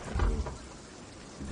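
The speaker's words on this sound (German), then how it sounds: "Wow, das ist ein Unwetterchen, ne?" A thunderstorm at sea in Sea of Thieves, with dense rain hiss and a low rumble of thunder swelling at the start and then fading under the steady downpour.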